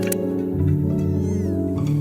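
A cat meows in the video game Before Your Eyes, a single drawn-out, clear meow heard close and alone.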